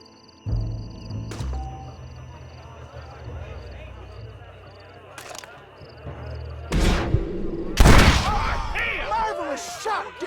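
Gunfire in the Western video game Red Dead Redemption: a few sharp, loud shots ring out amid game dialogue and background music, with a heavy blast near the end.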